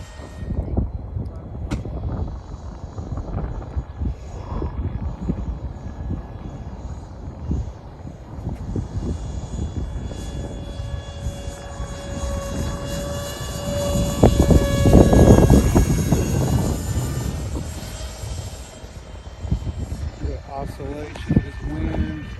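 A HobbyKing F-16 radio-controlled jet with a 50mm electric ducted fan flies at half throttle, its steady whine swelling louder as it passes close, under ongoing talk outdoors in wind.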